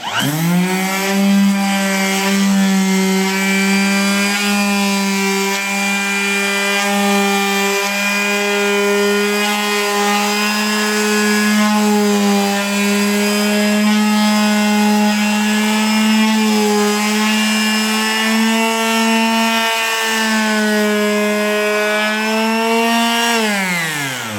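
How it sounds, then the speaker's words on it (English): A power sander sanding a wooden tabletop whines steadily for about twenty-four seconds, a sustained loud motor drone with slight pitch wavers as it works across the surface. "Take your sander and start going to town."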